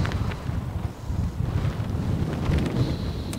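Strong wind buffeting the microphone at a roadside stop on a night drive toward Mecca, a steady low roar with gusty swells throughout and no talk.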